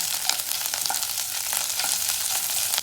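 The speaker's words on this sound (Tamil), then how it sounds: "இஞ்சி பூண்டு பேஸ்ட்டு பச்சை வாசம் போகிற வரைக்கும் வதக்கிக்கலாம்" Ginger garlic paste sautés in hot oil for egg chukka, a constant close hissing sizzle with faint stirring scrapes, alone without voices.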